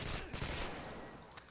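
A sniper shot in Modern Warfare 2 lands as a single heavy, booming report with a long rumbling tail, faint and distant in the game mix.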